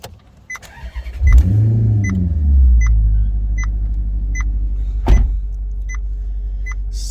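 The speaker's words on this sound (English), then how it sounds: "Let me start up the engine, give you guys an idea of what this car sounds like" Maserati GranTurismo engine cranks and fires up with a loud rising roar around one second, then settles into a deep steady idle, with a sharp blip of revs near five seconds and faint periodic chimes above.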